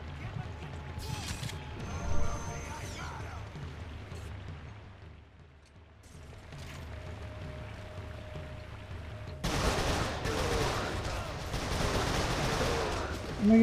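Gunfire in the video game Resistance 3, with scattered shots and bursts through the first half, then a louder, denser volley of firing after a quiet dip, under occasional talk.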